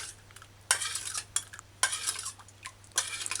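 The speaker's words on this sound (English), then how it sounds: "so mix ingredients in" Spoon stirring barbecue sauce ingredients, ketchup among them, in a pot for Asian-style fried chicken wings: several scraping, clinking strokes come in bursts, close and fairly loud against a low steady hum, with no talk.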